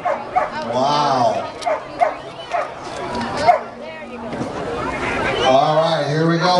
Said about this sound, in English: This is Rage Silver, a young pup from Bronson, Michigan.